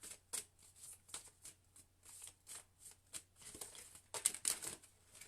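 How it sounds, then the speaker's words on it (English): A deck of oracle cards being shuffled by hand, giving a steady run of soft papery riffles and flutters close by, growing denser and louder near the end, with no talking. "I don't know how I can shuffle all these cards"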